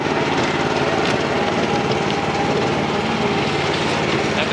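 Concrete mixer running steadily at a shed build site about 8 to 10 feet away, a loud continuous engine drone with a rumbling churn and no breaks.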